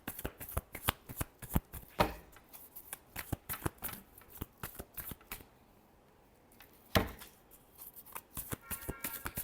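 Tarot cards shuffled by hand in rapid riffling bursts, close and crisp, with a brief quiet pause midway before the shuffling resumes; no talking.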